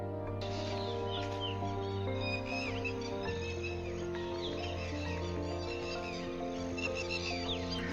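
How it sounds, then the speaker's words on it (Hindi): Birds chirp and call faintly in a village at early morning during a walk on the second day of Eid. The scattered twitters sit over a steady, droning tonal hum, with no one talking. "सुबह सुबह जब परिंदे बोलते हैं तो कितना अच्छा लगता है।"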